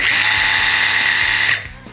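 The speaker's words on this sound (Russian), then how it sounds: "у болгарки, вот у этой насадки, углошлифовальной машины" An angle grinder fitted with a cutting disc spins up with a steady, loud high whine that holds evenly, then cuts off abruptly and winds down.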